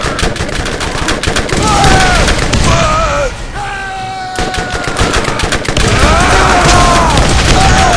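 Gunfire from the video game Borderlands on PC: loud, dense bursts of shots run nearly continuously, with a short lull in the middle, while tonal game effects sweep over the top.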